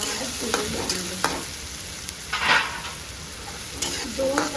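Finely chopped onions, two of them, fry in a pan for a Maharashtrian sandgyachi rassa bhaji, a steady close sizzle broken by several scraping stirs of a spoon, with no talking.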